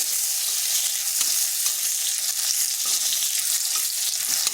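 Raisins frying in hot ghee in a pan give a steady, close, bright sizzle with faint crackles and occasional light stirring, no voices.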